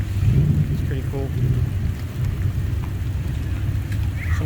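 Rain falls outdoors around a Factory Five Gen 3 Coupe kit car, a steady wash with low rumbling underneath and faint scattered sounds, moderately loud throughout.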